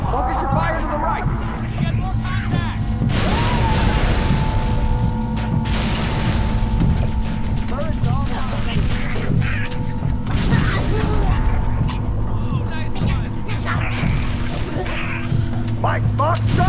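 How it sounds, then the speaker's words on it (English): Enemies cut through a door in Halo 3: ODST, a steady grinding, humming mechanical drone with metallic creaks and ratcheting, running continuously amid shouted voices, gunfire bursts and battle noise. "They're cutting through the door!"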